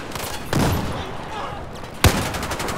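Gunfire aimed at the player in the Battlefield 4 video game: scattered game shots rattle throughout, with one sharp, loud blast standing out near the end.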